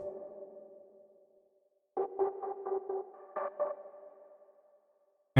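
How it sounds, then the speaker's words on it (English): A filtered Electra X synth melody drenched in reverb plays soft, ringing notes in short runs, separated by decaying tails and a quiet gap, with a sharp new attack at the very end. "And we're just going to filter it."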